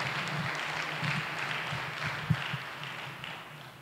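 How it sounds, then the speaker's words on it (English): Applause from a gathered audience for student athletes and coaches at a university women's basketball announcement, a moderate, steady patter of clapping that gradually thins out over a few seconds. "Let's please give them a round of applause."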